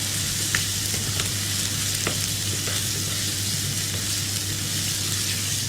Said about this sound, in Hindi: अब मैं इसमें शामिल करूँगी मेरे पास जो आधा किलो चिकन है बोनलेस, ये हम इसमें शामिल कर देंगे और ये डाल के आपने अच्छा सा मिक्स करना है